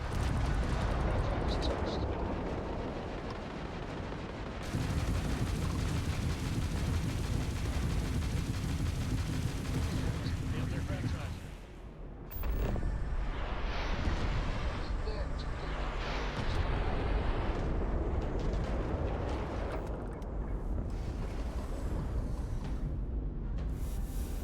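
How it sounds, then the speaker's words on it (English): Missile launches and explosions during ship combat in the space video game Starfield on PC, a dense, loud, continuous roar of booming blasts with a brief lull partway through. "We use some missiles now."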